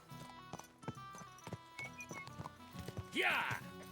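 Hoofbeats of a horse named Bibiana in the video game Kingdom Come: Deliverance II, a series of sharp, irregular clip-clop strikes close by, ending in a loud whinny, with someone talking over them.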